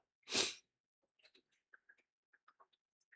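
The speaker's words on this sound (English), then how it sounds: "had to sneeze for a second" A single sharp sneeze bursts out close to the mic, followed by faint scattered clicks and small noises.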